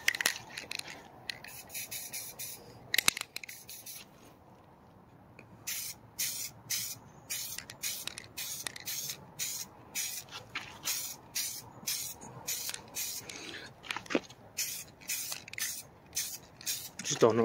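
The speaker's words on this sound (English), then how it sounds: "what we're gonna do now is spray one light coat, which is pretty much your base coat" Aerosol spray paint laid down as a light base coat on interior panels, heard as repeated short bursts of hiss in a steady rhythm, close and fairly loud, with a brief pause partway through.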